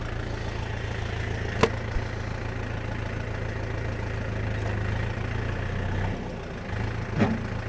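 A tractor engine runs steadily while sowing winter grain and spreading fertilizer in a field, a low rumbling drone with a pulsing throb and a few faint clicks, continuing without talk and dipping briefly near the end.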